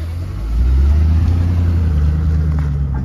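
A 2010 Ford Mustang GT with a 4.6 liter single overhead cam V8 pulls away, its deep steady engine rumble swelling and holding loud and near for a few seconds.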